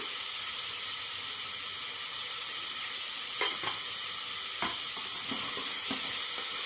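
Garlic and tomato fry in a pan for a soup, a steady close hiss of sizzling oil running throughout with a few brief scraping stir strokes near the end.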